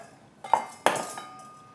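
Ingredients for mustard dropped into a cooking pot, two sharp metallic clinks with short ringing decay, close and fairly quiet.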